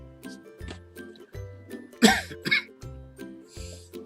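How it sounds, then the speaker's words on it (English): Repeated harsh coughs and throat clearing come in close, uneven bursts, with one especially loud cough in the middle. "I had a coughing fit."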